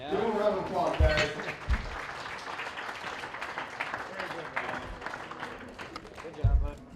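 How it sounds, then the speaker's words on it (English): A small group claps at a popsicle-stick bridge competition, with light scattered applause mixed with voices talking nearby and a few thumps in the room. "Give him a round of applause, guys."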